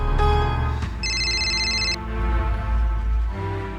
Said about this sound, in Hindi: बाबूजी के फोन हो। फोन उठा ला और सुना, स्पीकर ऑन रख के बात करा।